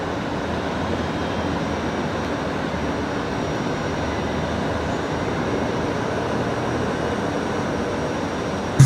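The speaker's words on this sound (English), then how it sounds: "I really do enjoy the old A330 departures." Airbus A330 jet taking off from Brisbane Airport, a steady, continuous broadband engine roar held at even loudness throughout with no voices over it.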